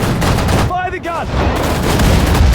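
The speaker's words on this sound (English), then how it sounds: "Fire the gun!" Gunfire from a gun in the World War II strategy game Sudden Strike 4, loud battlefield shots and rattling bursts over a dense roar of combat, with a short voice line in the middle.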